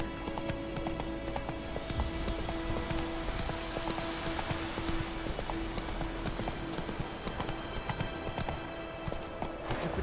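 A horse galloping in the video game The Witcher 3, a steady rapid clip-clop of hooves running continuously under game ambience and a faint tonal hum.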